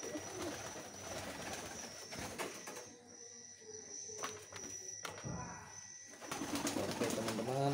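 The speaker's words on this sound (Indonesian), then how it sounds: "Jadi beginilah suasana di dalam kandang merpati." Pigeons coo inside a coop holding a newly hatched squab, soft repeated throaty calls over a low steady hum, with faint shuffling and footsteps close by.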